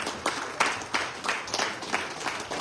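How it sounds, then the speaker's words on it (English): Audience applause and a standing ovation at a mayoral endorsement event in New York City, a continuous wash of crowd clapping with rhythmic bursts, fairly distant and moderately loud. "Let's give him a big round of applause and a standing ovation."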